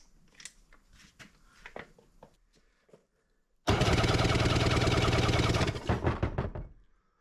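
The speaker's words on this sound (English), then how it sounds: "we're going to do a compression check." The engine of a 2003 Sea-Doo GTI RFI cranks over during a compression check, a loud, rhythmic churning burst of about two seconds. Scattered knocks and clatter come before it, and it winds down with a few fading pulses.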